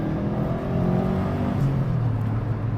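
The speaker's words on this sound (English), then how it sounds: "Now the Mitsubishi, the engine feels maybe a little bit stronger." A Mitsubishi TME Evo engine pulls hard under acceleration, loud and close, with a steady roar whose pitch climbs smoothly through the revs. No one speaks over it.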